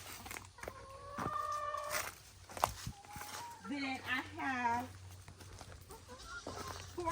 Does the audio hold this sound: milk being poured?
no